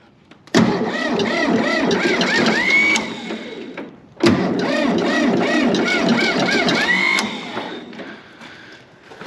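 A tractor starter motor with a failing solenoid grinds and whirs in two loud cranking attempts of a few seconds each, separated by a short pause, with no clean catch.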